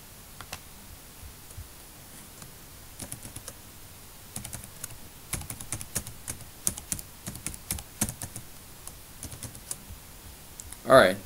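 Password being typed on a computer keyboard, with irregular soft key clicks that grow into a busier run of taps, ending in a louder click.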